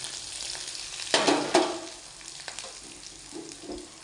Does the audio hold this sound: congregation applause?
no